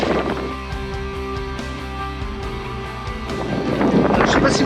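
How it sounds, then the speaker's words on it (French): Strong wind in Iceland buffets the microphone in a steady roar, with a boat's low rumble underneath and gusts rising toward the end. "il y a un vent de fou et ça fouette le visage"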